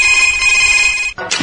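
A telephone rings loudly for a listener phone-in call on a Chhattisgarhi radio program, a steady electronic ring tone sustained for about a second before it cuts off.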